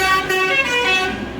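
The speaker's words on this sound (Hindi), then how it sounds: "बहुत मेहनत से हॉर्न बजा रहा था वो" A bus horn blares steadily and loudly for over a second, its sustained tonal blast heard as background while a physics lesson is being taught, with no talk over it.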